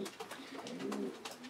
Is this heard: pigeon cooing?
yes